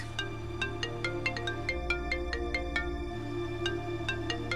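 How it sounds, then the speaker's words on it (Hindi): A phone ringtone signals an incoming call, a continuous melodic electronic tune with a steady ticking beat that plays on without any voices. "सर का ही फोन आ रहा है।"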